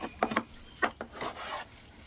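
Blacksmith-forged knives are sharpened outdoors for wilderness cooking, giving a few short rasping scrapes in quick bursts, then a longer softer rub, close and alone with no talk.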